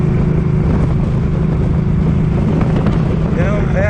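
A Suzuki Boulevard M50 motorcycle is ridden home through 40 mph wind gusts, its engine drone buried under loud, constant wind roar, with a faint voice near the end.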